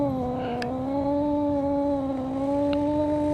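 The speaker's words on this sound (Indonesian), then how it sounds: "Nah ini dia kucingnya, kucing oranye bikin rusuh emang." An orange cat in DreadOut 2 lets out a drawn-out, wavering meow, loud and close, sustained for several seconds over a faint background hum with a couple of brief clicks.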